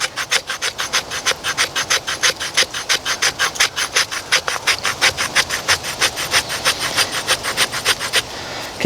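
A knife's sharp 90-degree spine scrapes tinder from a piece of wood in quick, rhythmic rasping strokes, about three per second, steady and close for most of the stretch.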